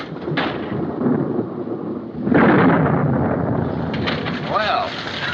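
Thunder from a lightning storm in a 1942 American romance film rumbles low and steady, swelling into a louder roll midway, with rain and wind noise beneath and a voice briefly audible.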